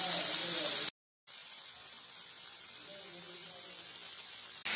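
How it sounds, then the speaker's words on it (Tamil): Turkey berries (sundakkai) sauté in a pan, a steady bright sizzle that drops out for a moment then resumes, with a voice faintly under it at the start. "ஒரு 5 நிமிஷம் நல்லா வதக்கிக்கலாம் இதுலயே"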